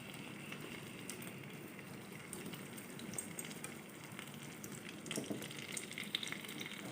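Kurau fish fries in a little oil in a wok, giving a faint, steady crackling sizzle with small pops and no voices.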